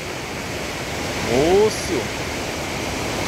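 A dangerous waterfall in Mato Grosso, used for rappelling, pours into a river below with a steady, even rush of water; a voice calls out briefly over it.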